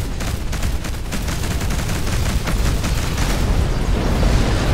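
Spaceship weapons fire in Between the Stars as a dense, continuous barrage of rapid blasts and booms, loud and close, building in intensity throughout with no pauses.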